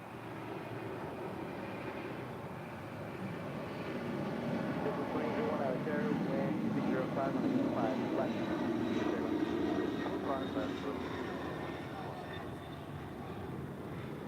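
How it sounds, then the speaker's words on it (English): A Boeing 747-400 converted freighter departs LAX with a steady, sustained jet engine roar at moderate distance, swelling slightly mid-clip, while a voice talks over it. "That is Caleta Air, Flight 368, departing to Honolulu on a 747-400 converted freighter."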